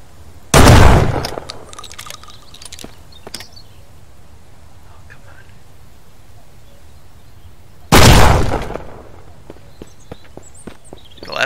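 Gunfire in the video game Mist Survival: two loud, sharp shots about seven seconds apart, each trailing off in a long echoing decay, with quiet ambience and faint clicks in between.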